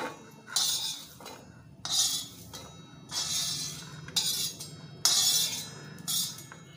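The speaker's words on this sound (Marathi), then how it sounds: "तर हे आपण एका ताटामध्ये काढून घेऊया" Spoon scraping and clinking against a pan while spiced sweet corn is transferred onto a plate, in repeated short bursts of metallic scraping, close and clear.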